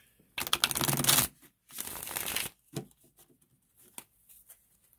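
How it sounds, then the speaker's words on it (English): Tarot cards are shuffled in two quick riffling bursts, followed by a few soft taps and clicks as the deck settles. "Do another shuffle here."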